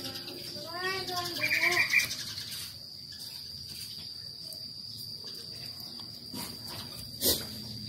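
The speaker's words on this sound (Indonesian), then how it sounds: "Ini mohon maaf kalau ada suara burung. Di sini banyak burung" Many birds chirp outdoors in a brief burst of sweeping calls, with a steady high insect drone running underneath throughout.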